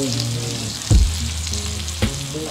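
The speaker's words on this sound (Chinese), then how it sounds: "融化一块黄油，直接放上去煎" Beef rolls with cheese, skewered on bamboo sticks, frying in melted butter in a pan: a steady close sizzle with two brief louder crackles.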